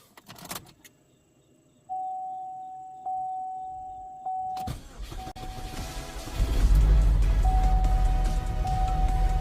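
A car whose starter remote wire was just repaired: keys jangle and a steady chime sounds first, then the engine catches and settles into a loud, rumbling idle that continues to the end. No talking.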